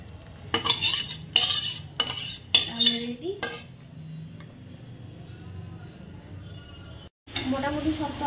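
Spices ground by hand on a flat grinding stone give a run of rough, rhythmic scraping strokes, loud and close, that then fade to a quieter background as people talk nearby.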